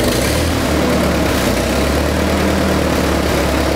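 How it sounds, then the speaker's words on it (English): Rebuilt Ford 8N/9N/2N tractor engine running steadily after reassembly, a loud, close, continuous low rumble with an even idle and no talking. "I have enough of my tractor assembled that I'm ready to start it up."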